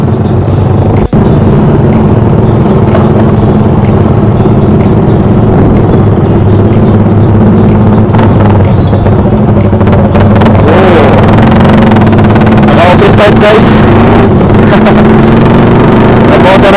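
A yellow Rider 155 motorcycle engine rumbles steadily at an outdoor event at a plant nursery, swelling as it speeds past, with someone talking over it throughout.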